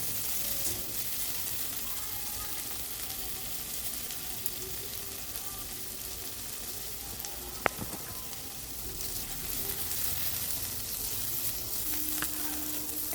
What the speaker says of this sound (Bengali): তো সবজিগুলোকে দিয়েও আমি ভালো করে ভেজে নেব, যাতে সবজি কাঁচা গন্ধ না থাকে